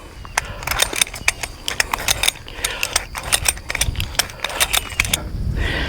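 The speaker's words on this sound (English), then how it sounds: "So we've got this little tension roller here. Just a giant ratchet is all it is." Giant ratchet tension roller being cranked to tighten fence brace wire, a run of sharp metallic clicks in uneven bursts, loud and close, with no talking.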